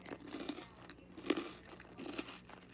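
Toast with a hard boiled egg on top being bitten and chewed: three or four crisp crunches spaced about half a second apart, close and fairly quiet, with no talk.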